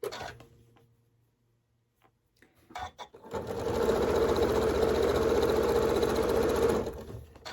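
After a quiet start with a few clicks, a sewing machine runs steadily for several seconds stitching scrap quilt fabric, a close, even mechanical whir heard alone.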